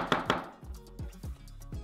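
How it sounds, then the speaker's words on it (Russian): A knife slices mushrooms thinly for a pizza, making a few soft, evenly spaced chopping thumps on a board. The sound is close and moderately quiet, with no talking. "Их нарезали на тонкие ломтики."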